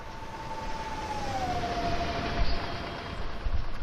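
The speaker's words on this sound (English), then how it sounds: "that's a freight train" Freight train passing in the Train Sim World game on the Köln–Aachen route, a steady broad rumble with a long gliding horn-like tone, building slightly louder as it goes by, with no talk.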